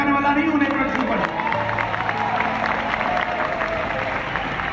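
An audience at a product launch event claps in a steady wash of applause with crowd murmur, close and fairly loud throughout.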